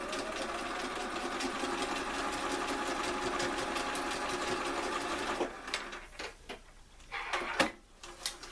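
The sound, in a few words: sewing machine stitching fabric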